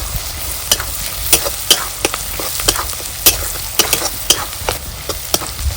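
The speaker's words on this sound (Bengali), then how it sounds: "এবার ভালো করে একটু মিশিয়ে নেব নাড়াচাড়া করে।" Onions and chilli frying with turmeric and pepper while a utensil stirs them, giving a steady close sizzle broken by regular scraping clicks against the pan.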